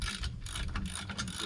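A wrench ratchets steadily as a bolt is tightened on a CargoMaster hitch bike rack for e-bikes, a continuous close mechanical clicking and grinding with no voices.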